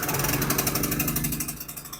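A small generator fired by push-button starter runs in a close, loud, steady chugging idle with a rapid pulsing rhythm and no talk.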